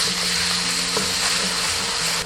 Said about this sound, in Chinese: 下入一半的蒜蓉，小火炒